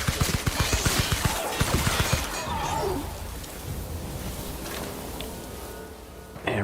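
Rapid bursts of gunfire in The Outer Worlds video game crack out in a dense volley over the first couple of seconds, then give way to a quieter rumbling ambience, with a sharp shot returning at the very end.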